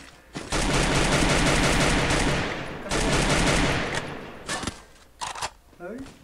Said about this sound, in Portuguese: tem um cara atirando em você